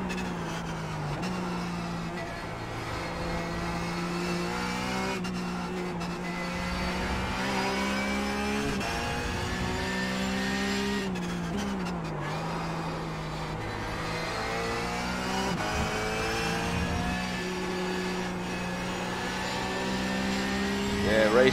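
Porsche 911 GT3 Cup race car in the iRacing sim at Spa, its engine revving hard with rising pitch through repeated gear changes, loud and continuous, with a voice faintly in the background.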